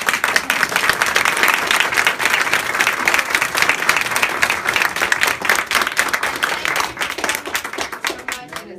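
A school district audience gives a full round of applause after a state senator's appearance, loud dense clapping sustained for several seconds before tapering off near the end.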